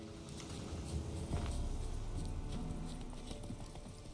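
Hooves of Roach, the horse in The Witcher 3 video game, clopping in a fast, regular galloping rhythm, moderately loud and alone with faint game ambience beneath.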